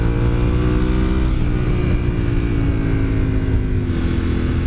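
A 2000 Honda VTR 1000 SP1 V-twin motorcycle engine drones loudly and continuously up close, a rich, steady throb with slight pitch shifts.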